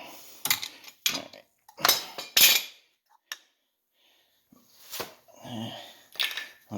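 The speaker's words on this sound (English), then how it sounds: "and press that piston back in." Metal clicks and scrapes from a tool pressing the brake caliper piston back in on a 2014 Kia Soul's front brakes, a series of sharp close knocks with short gaps between them.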